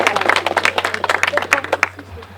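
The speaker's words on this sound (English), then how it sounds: "Let's give him a big round of applause." A crowd claps loudly at a candlelight ceremony, sharp individual hand claps ringing out rhythmically before fading near the end.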